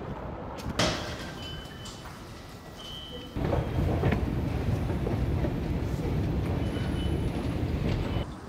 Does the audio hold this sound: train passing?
yes